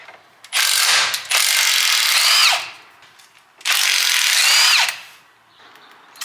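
Ratchet wrench loosening 13 mm bolts on a rear differential cover of a 2005 Cummins truck, two long bursts of rapid close clicking separated by a pause.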